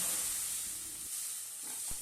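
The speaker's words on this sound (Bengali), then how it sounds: "এখন আমি ডালটা দিয়ে দিচ্ছি।" Lentils poured into hot oil with ginger and cumin, giving a bright steady hiss and sizzle that fades gradually, followed by a brief knock, with no talk.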